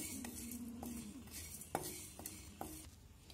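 Spices and black pepper dry roasting in a pan, quiet scraping stirs with a few light metallic clinks of utensil on pan, close and faint.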